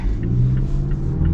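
A 2024 Mazda SUV engine in sport mode revs and pulls hard under acceleration, a steady low rumble close by that holds strong throughout.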